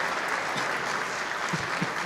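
A high school band concert audience at Wilson High School keeps up a continuous, dense round of clapping for the seniors in the ensemble, even and full for the whole stretch.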